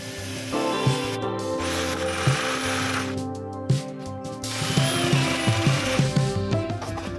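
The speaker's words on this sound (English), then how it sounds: "tried lots of different things to cut it with and ended up using a Dremel" Dremel rotary tool cutting a hole in a campervan seat base, a close buzzing cutting whine with intermittent clicks, knocks and rattles as the piece is worked, no speech.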